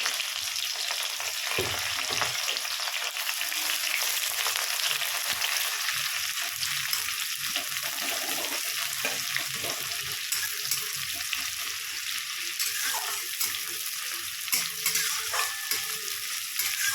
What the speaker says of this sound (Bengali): এবার পেঁয়াজটাও লাল লাল করে ভেজে নেবো।